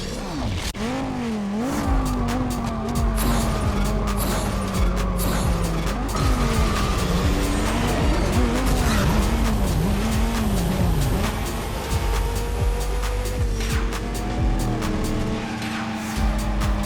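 Street racing cars in the Wii game Need for Speed Nitro, engines roaring loudly and steadily throughout with wavering revs, repeated tire squeals and skids while drifting, no talking.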